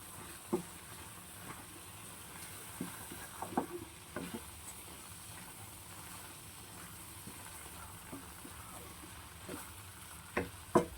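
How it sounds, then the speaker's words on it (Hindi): Mushrooms and vegetables stirred in a frying pan for a creamy mushroom paneer dish, with a steady low sizzle and scattered soft scrapes and clinks of the spoon against the pan throughout. "इसको साथ के साथ हिलाना, इसको अच्छे से मिक्स करना, ऐसे सॉर्ट करना बहुत ज़रूरी है"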